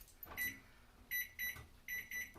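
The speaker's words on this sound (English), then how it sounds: "Timer went off, so we've already done the first 25 minutes" A kitchen timer goes off during baking, sounding a series of short, high electronic beeps in quick pairs and groups. They are fairly quiet against a faint room background.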